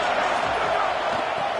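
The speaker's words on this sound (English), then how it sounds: "This crowd ready to make its presence known." Steady roar of a football stadium crowd during a game, a dense, continuous wash of many voices from all around with no distinct peaks, loud throughout.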